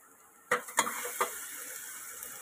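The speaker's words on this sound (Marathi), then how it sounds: "आता ह्याच्यात लसूण टाकलं, आता आपण हलवूया," Garlic frying in a pan is stirred in a few quick scrapes, three distinct clatters over a faint steady sizzle, close and fairly quiet.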